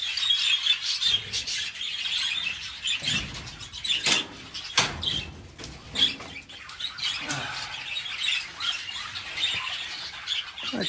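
Birds in an aviary squawking and chirping busily, many overlapping calls and sharp squawks with occasional flutters, moderately close with no talking.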